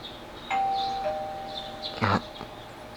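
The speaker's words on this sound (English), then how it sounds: "The doorbell's ringing. Someone seems to be at the door." A doorbell rings in Persona 4, a clear electronic two-note ding-dong chime, followed by a brief rustle, heard alone without talk.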